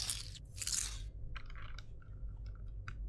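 Crisp crunching bites in the video game The Stalked, a few bursts of chewing followed by small scattered clicks, close and fairly quiet with no talking.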